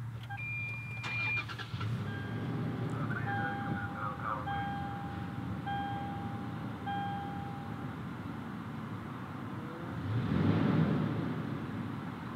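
A 2019 Toyota 4Runner Limited starts by push button: chimes and a faint starter whir come first, then a low engine catch rises and settles into a quiet idle near the end.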